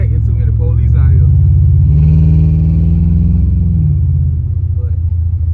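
A 1987 Monte Carlo SS engine cruising, a steady deep rumble with a slight swell in pitch partway through, close and loud throughout, with no talk over it.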